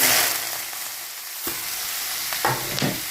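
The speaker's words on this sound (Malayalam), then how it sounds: "ഇനി ഇതിലേക്ക് നമ്മളിതാ ചുവന്ന മുളകും കടുകും കൂടെ ഇട്ട് കൊടുക്കണ്ടേ" Red chillies and mustard seeds hitting hot oil for a Kerala carrot and cucumber upperi, a loud sizzle that eases, then a few clinks and stirring scrapes near the end.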